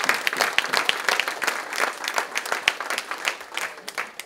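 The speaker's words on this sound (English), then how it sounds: "Give yourselves a round of applause for being an example for my children" Lively round of applause from an audience at an honoring event for a colonel, close, crisp individual claps forming a dense patter that gradually thins and softens toward the end.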